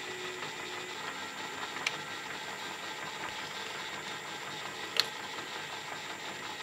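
A metal lathe cuts a cement mixer shaft journal on a light pass, giving a steady low mechanical hum and whir with two brief sharp ticks, moderately quiet and without speech.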